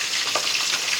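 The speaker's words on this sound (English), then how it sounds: "I'm frying mine on medium-high heat right now." Steady crackling sizzle of fish frying in hot oil over medium-high heat, three pieces in a pot, with a few louder pops, close and continuous with no talking.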